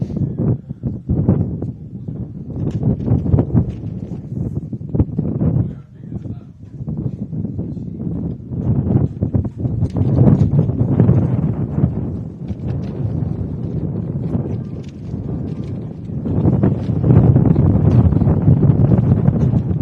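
Strong wind gusting across an outdoor football pitch, buffeting the microphone with loud low rumbling bursts that rise and fall, heavier toward the end.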